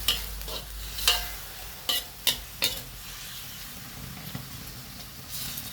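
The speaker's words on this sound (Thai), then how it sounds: "ไปใส่คะน้าครับคะน้าลงไปผัด ลงไปแล้วผัดต่อครับ ผัดต่อ" Chinese kale is stir-fried in a pan with chillies and tomato, a constant sizzle punctuated by several sharp scraping strokes of the spatula, close and clear with no talk.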